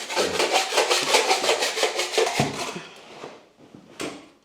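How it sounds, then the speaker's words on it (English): A blade scrapes caulk and mortar off wooden skirting in quick rhythmic rasping strokes, close and steady, slowing into a few scattered scrapes near the end. "And then removing any of the mortar that's possibly sticking out."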